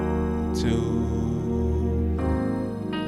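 Keyboard playing a gospel jazz 2-5-1 progression, full sustained chords with low bass notes changing roughly every second and a half, the harmony shifting between rich voicings, clear and alone without speech.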